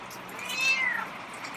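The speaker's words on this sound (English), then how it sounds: "that's another meow" A single drawn-out meow from a feral cat, rising and falling, fairly faint against quiet room background.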